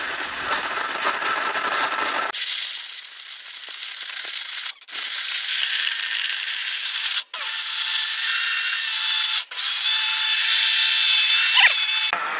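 An Orpat high-power blender grinds turmeric into powder, a loud, steady whirring roar with three brief cutoffs as it pulses, running alone without voices after a moment of lower noise.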